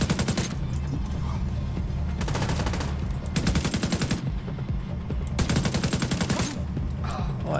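Rapid automatic gunfire in The Division 2 video game, loud repeated bursts of fast shots separated by short pauses, close and dominant over game ambience.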